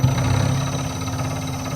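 Lathe turning a high-pressure common rail diesel test fitting, a steady close mechanical hum with a strong low tone and faint whirring throughout, no voices.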